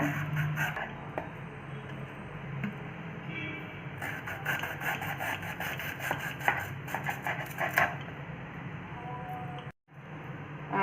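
A knife slices through a fresh banana stem, a steady rough scraping and rasping of blade against fibrous stalk that runs nearly continuously, close and moderately loud, with a brief break near the end.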